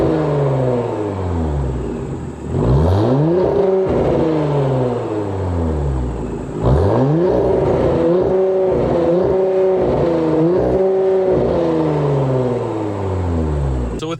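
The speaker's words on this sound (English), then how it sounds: "The touring exhaust does have mufflers." Audi S4 B9 with a touring exhaust that keeps its mufflers, revving up twice with rising engine pitch and a deep rumbling drone between pulls, close and steady, without talk.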